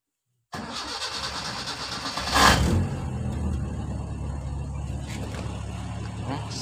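A CNG-converted car's engine cranks and catches after its gas reducer is adjusted, with a loud surge at the start that settles into a steady, close-up idle running alone.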